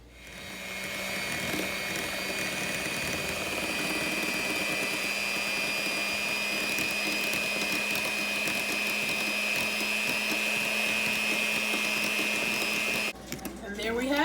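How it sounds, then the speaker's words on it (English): Electric hand mixer whipping a lemon cream cheese glaze: a steady, close, high motor whine that runs continuously for about thirteen seconds, then cuts off with a brief clatter. "I'm going to get my hand mixer for this"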